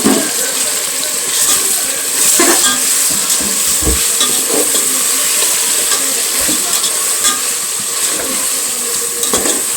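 Tomatoes with fried onions and masala sizzle in a pan for a home-style mutton biryani, a loud continuous frying hiss with occasional stirring scrapes and clinks, close up and with no talk.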